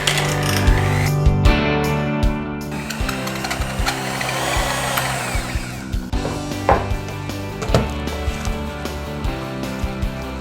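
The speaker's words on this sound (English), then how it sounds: "If you have a mixer, go ahead and start mixing." Hand mixer whipping mashed potatoes with half and half, a steady loud motor whir with scraping and knocking against the bowl throughout, no talk.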